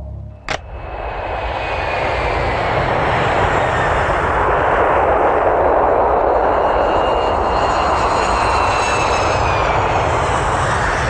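A fixed-wing airplane roars overhead in a steady, loud, continuous engine drone that swells slightly as it passes, after a short knock at the very start.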